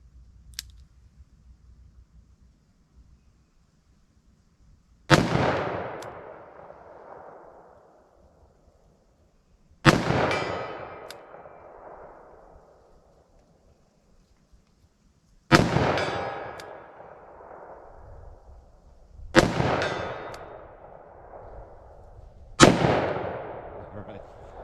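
Five loud, sharp gunshots from a short-barrel handgun in .40 S&W or .357 Magnum firing Blazer Brass hollow-point ammo at steel targets, each crack ringing off briefly, spaced about four to five seconds apart with quiet between.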